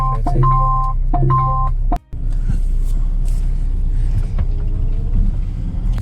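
A car is being moved on a street where road marking is underway, producing a steady low engine rumble up close, with a few electronic beeps, a brief drop, then continuing motor noise.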